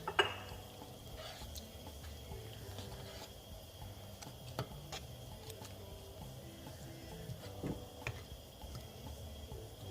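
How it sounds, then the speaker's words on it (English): Okra soup is stirred in a cooking pot, with a few sparse metallic taps and clinks from the utensil against the pot over a low, steady background, no talking. "I'm going to stir this and come back for this in 5 minutes."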